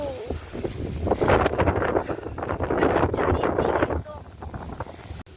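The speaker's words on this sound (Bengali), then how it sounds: "পুরো ঝড়ের মতন হাওয়া দিচ্ছে।" Strong storm gusts roar and buffet the microphone, swelling and easing in waves with rustling noise, fading somewhat toward the end.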